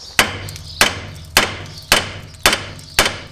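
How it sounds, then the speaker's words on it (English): A hammer knocks a Peugeot suspension bush bolt, six sharp metallic strikes at a steady, even pace, each ringing briefly before the next, close by with no talking. "So you can hit it with a hammer once or twice."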